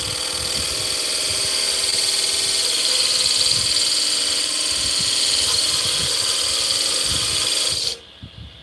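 A wood lathe spins a piece of spalted hickory as a skew chisel takes a peeling cut, giving a steady, loud whirring hum with faint rough scraping that continues unbroken, then stops abruptly near the end.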